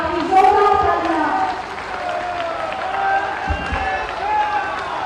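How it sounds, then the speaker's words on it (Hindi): An audience claps loudly at a government development project inauguration and foundation-stone event in Azamgarh, with sustained applause continuing under an amplified voice. "आपकी जोरदार तालियां।"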